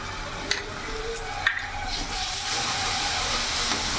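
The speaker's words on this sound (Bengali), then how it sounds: "ভালো করে মিশিয়ে নেব।" Ginger-garlic-chili paste stirred in a hot frying pan, a steady close sizzle with a few sharp scrapes of the spoon against the pan, growing slightly louder toward the end.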